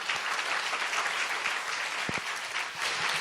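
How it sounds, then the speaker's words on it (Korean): An audience in a school hall claps for an 11th-grade student after his academic presentation, a dense, steady round of applause at moderate distance with a few sharper individual claps standing out. "크게 박수로 격려해 주시면 감사하겠습니다"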